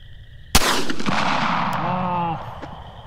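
A single sharp pistol shot at night during target shooting, loud and close, with a long rolling echo trailing off and brief voices afterward.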